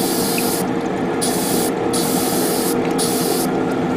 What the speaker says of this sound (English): The spray booth is functioning up to a certain degree